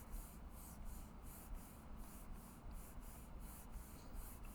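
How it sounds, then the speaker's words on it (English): Cardstock pressed onto an inked stamping plate and rubbed by hand, producing a steady, soft, rhythmic rubbing whoosh that pulses roughly three times a second, quiet and close with no talk. "So I'm going to bring this together and just slightly rub."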